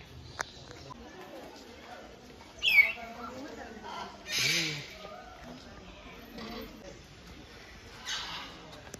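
A large bird at a zoo in Bangalore calls out loudly in a few short, harsh bursts, with people talking quietly between the calls.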